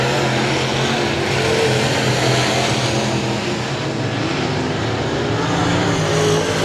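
Race cars at I-37 Speedway, several engines roaring loudly and steadily as they lap the oval, with pitch swells as they pass through the turns and no voices over them.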